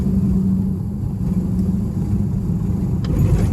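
A car drives along a flat coastal road near Kilnsea toward Spurn Point on the Yorkshire coast, its steady low engine and tyre rumble continuous and close with no one talking.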